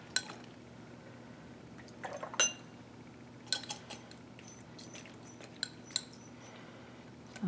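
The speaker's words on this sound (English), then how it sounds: "Rinse out my beaker." A lab beaker is rinsed with water, giving faint trickling and a scattering of sharp glassy clinks and taps at irregular moments, quiet and close with no voices.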